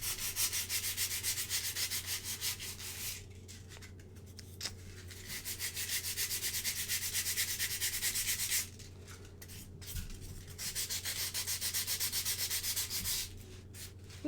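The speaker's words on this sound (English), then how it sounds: "I wouldn't think sandpaper would work on foam, but it really does." Sandpaper rubbed by hand across foam while modding an Imposter costume body, a steady rasping scrub in long bursts broken by a few short pauses, close and fairly loud with no talking.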